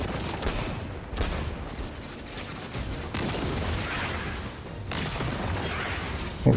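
Rapid bursts of powerful rifle fire in the Destiny 2 video game, Edge of Fate Legendary campaign, steady dense volleys running throughout with brief dips, loud and close.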